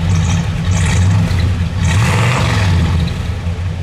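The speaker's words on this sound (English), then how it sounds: "let's give it a rev" A 1966 Buick Wildcat Custom Gran Sport convertible engine revs loudly and close by, with two strong throttle blips that rise and fall over a deep, steady rumble and no talking.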